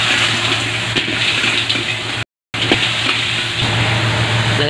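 Mussels tipped into a pan of garlic, onion and tomato already sautéing, giving a steady, close sizzle and watery crackle that runs continuously, with a brief gap midway and no voices.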